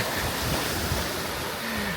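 Storm-driven waves churn and slap on a reservoir at Kamburliivka while strong wind roars steadily across the microphone, a dense, continuous wash of noise with no voices.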